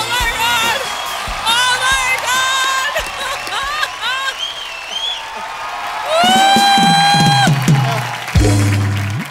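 Studio audience applause, whoops and cheering on a comedy stage show built around a celebrity wedding spoof, loud and sustained, mixed with music and bursts of sound effects, building louder toward the end.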